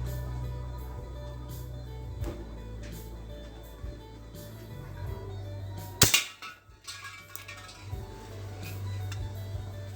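A short slide slingshot gun, raised and shot at a target some distance away, gives one sharp loud snap midway through, followed by a brief rattle, against steady low background hum.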